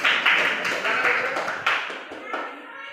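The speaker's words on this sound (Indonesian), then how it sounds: "berikan aplaus dulu untuk ya kelompok 1, 2 dan 3" Applause for groups 1, 2 and 3 at a moderated group session: a crowd clapping in bursts that swell and fade, mixed with voices talking.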